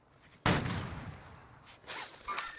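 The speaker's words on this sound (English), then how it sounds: "I'm getting shot." Gunfire in the Warzone battle royale game hitting the player: a sudden loud burst of shots followed by a couple of smaller impacts, no talk.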